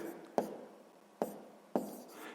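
A pen writes on paper during a sixth-grade maths exercise, with three quiet scratchy strokes, each starting with a sharp tap and fading into a soft scrape, close up.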